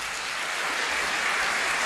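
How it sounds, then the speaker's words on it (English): An audience of frogs bursts into wild applause, a thick, continuous roar of clapping heard up close and steady for its whole short length. "the audience broke into wild applause"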